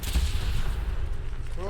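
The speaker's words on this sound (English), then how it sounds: "I was midair, nowhere near that explosion" An explosion in a video game lands as a loud, deep boom with a rumbling tail, close and heavy, followed by a voice starting to speak at the end.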